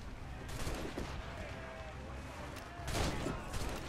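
Naval battle cannon fire from Assassin's Creed Rogue, with two heavy booming volleys a couple of seconds apart over a constant rumbling background.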